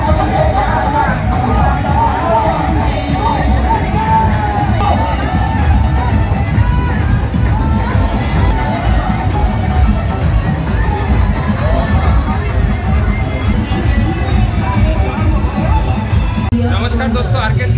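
A dense festival crowd at Bijoya Dashami in Gandhi Chowk, Bilasipara, gives a constant loud hubbub of chatter and shouts with occasional cheers, and a voice talks over the throng throughout.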